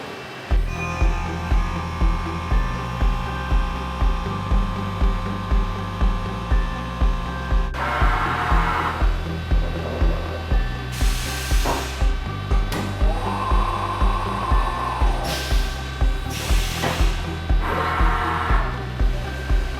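A CNC machine cuts a nickel-plated aircooled engine cylinder, a steady loud machining drone with a regular pulsing beat and bursts of higher whine and hiss, heard alone without voices.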